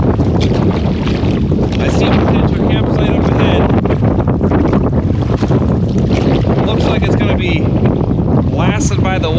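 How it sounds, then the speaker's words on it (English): Strong wind roars steadily against the microphone on a canoe trip across open water, a dense unbroken rush with brief splashes and a few voices talking faintly beneath it. "It's just too breezy."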